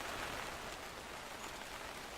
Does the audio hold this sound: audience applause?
no